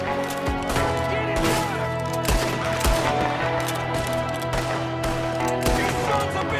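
Dense, continuous gunfire from a shootout in the video game Red Dead Redemption, with rapid overlapping shots and loud cracks under brief shouted speech.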